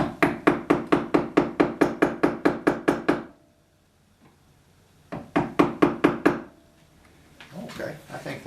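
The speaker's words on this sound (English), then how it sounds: "what I'm going to take it out with is this number 3 sweep" A number 3 sweep carving gouge is struck by a mallet into wood in a fast, even run of sharp knocks. It pauses briefly, then resumes for another burst, close and loud.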